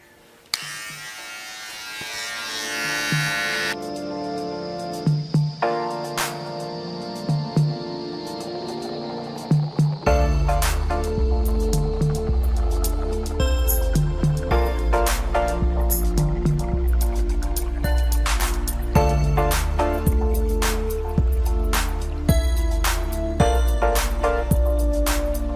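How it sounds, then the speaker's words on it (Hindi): A Philips BT1215 beard trimmer with a 3 mm comb hums steadily and close through the clip. Its motor runs continuously, with small clicks and buzzing changes as the blade passes through beard hair. "ये वाले हिस्सा का भी हम फिलिप्स BT1215 से ट्रिम करेंगे सेम एट 3 mm सेटिंग"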